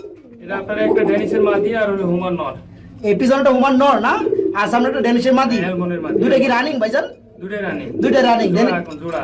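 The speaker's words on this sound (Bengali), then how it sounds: "আপনারা এখানে দেখতে পাচ্ছেন এক পেয়ার কবুতর রয়েছে" Soft pigeon cooing runs beneath nearly continuous close-up talking, partly masked by the voices.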